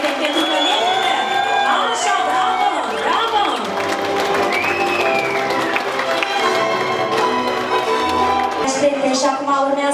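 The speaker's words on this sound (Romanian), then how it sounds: "Aplauze și mai tare, și mai frumos," Wedding guests clap and cheer loudly while a voice calls out over them and music-like tones weave through, a busy, lively festive crowd throughout.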